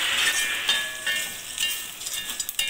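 Fried breadfruit pieces stirred in masala in a pan over a low flame, giving a steady close sizzle with light scraping stirs and no talking.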